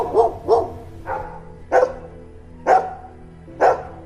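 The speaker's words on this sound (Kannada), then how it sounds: "ದೂರದಲ್ಲಿ ಒಂದು ನಾಯಿ ಬೊಗಳ್ತಾ ಇರುತ್ತೆ" A single dog barks six times in an uneven rhythm, each bark short and sharp, carrying from some distance with nothing else around.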